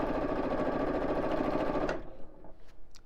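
Sewing machine running steadily through free-motion squiggly quilting on patchwork fabric, a dense continuous whir for about two seconds before it stops, leaving faint handling noises.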